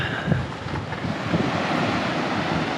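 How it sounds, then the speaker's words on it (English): Large surf breaking on an Australian beach near Port Macquarie makes a continuous loud roar, with steady wash and wind noise and no talk. "on this side of the beach, which has all the rather large surf"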